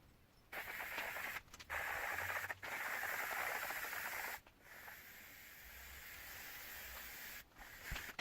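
Powder coating gun spraying satin black powder onto bike parts, giving a steady broadband hiss in several long bursts separated by short pauses, close and fairly loud with no talking.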